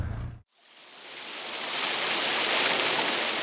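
Heavy rain falls at a race circuit during a BMW club track day. After a brief cut, a broad, dense hiss of downpour swells and then holds steady and loud, with no voices.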